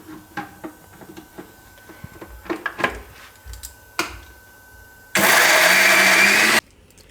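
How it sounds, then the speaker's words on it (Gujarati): A mixer grinder blending amla (Indian gooseberry) chutney: a run of clattering knocks from handling the jar, then one loud, harsh grinding whir lasting about a second and a half that cuts off abruptly. "તો ચટણી આપણે બધી પીસી લીધી સારી રીતની"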